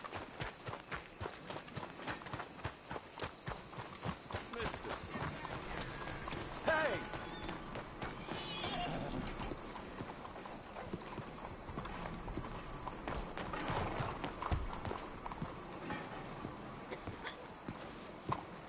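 Horse hooves pound in a fast, continuous clip-clop as the horse runs in the game Red Dead Redemption 2, with dense outdoor noise and a brief voice partway through.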